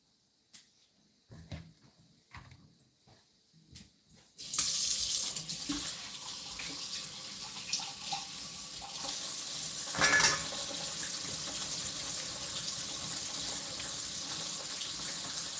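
Tap water runs steadily into a sink as harvested peppers are rinsed, a continuous broad splashing hiss that starts after a few quiet seconds of faint handling noises and stays fairly loud to the end.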